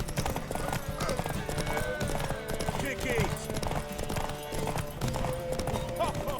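Hooves clip-clop steadily at a brisk pace during a horse race to a tower in the video game The Witcher 3: Wild Hunt, with people talking over the hoofbeats.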